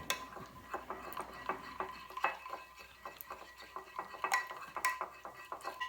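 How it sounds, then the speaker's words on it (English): A utensil stirring melted butter and chocolate together in a bowl, with repeated close scraping and light clinking strokes in an irregular rhythm, quiet and with no voices. "And I'm just combining the butter and the chocolate now, as you can see."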